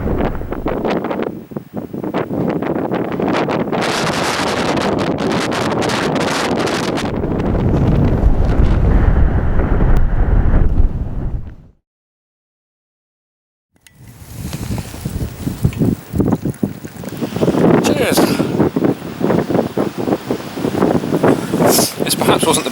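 Strong gusty wind roaring past large boulders on an exposed hillside, heavy buffeting against the microphone that cuts out briefly and then returns just as loud.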